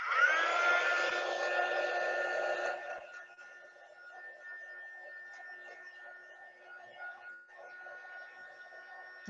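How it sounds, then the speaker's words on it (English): A small handheld heat gun blows hot air to dry artwork in an art studio: a loud whooshing roar for about three seconds, then a quieter, steady airy whine with a thin tonal hum. "I'm just going to turn on my handy little heat gun, which is again another of my favorite tools in the studio. It will make a little noise"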